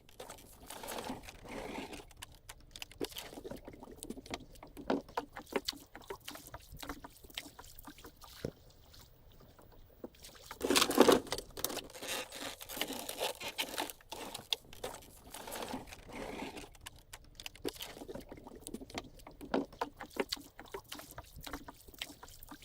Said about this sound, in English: The canoe is ready. It's time to see how it handles the lake.